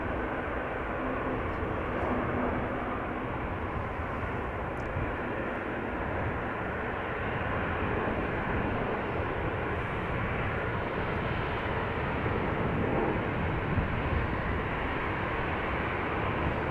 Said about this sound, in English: Another bizzjet, turboprop taking off. Is that a Pilatus PC-12?